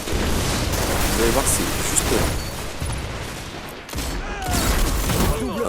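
Rapid gunfire from precision kills in the shooter Destiny during a PvP match, with continuous shots and booms crowding the mix while someone talks over the action.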